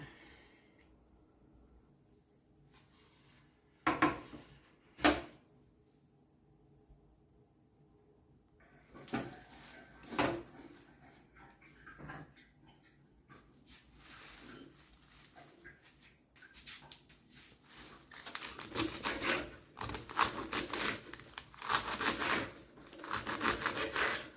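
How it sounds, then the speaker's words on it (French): Celery stalks being cut into small pieces with a knife on a board, scattered sharp chops and fibrous crunching that start sparse and grow into a rapid, busier run of cuts, with no talking. "je découpe en petits morceaux. C'est du céleri, il y a des fibres."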